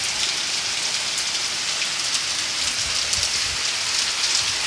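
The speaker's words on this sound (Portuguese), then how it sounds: "Tá chovendo um pouquinho" Summer rain falls steadily during a windy storm, a dense continuous hiss of drops hitting surfaces nearby, with scattered louder pattering and no voices.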